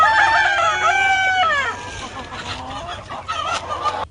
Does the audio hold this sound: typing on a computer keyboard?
no